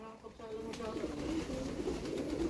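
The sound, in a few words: pigeons cooing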